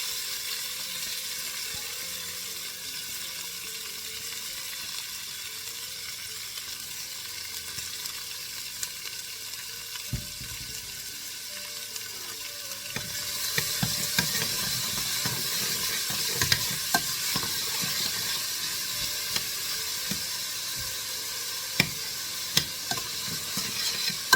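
Peppers and onion sizzle in a pan for sausage and pepper pasta, a steady close frying hiss that grows brighter and louder partway through as scraping stir strokes and clatters join in.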